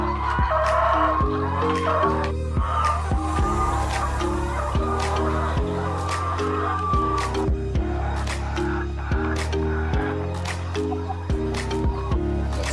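Chickens at a laying hen farm cluck and squawk continuously, close and loud, with a dense chorus of overlapping calls and a few sharp cries cutting through.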